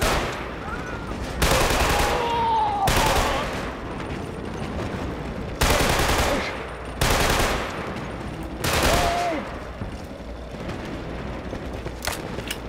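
Loud bursts of automatic gunfire from a shooting video game come in several long sustained volleys separated by brief pauses, with faint game effects and occasional voice between them.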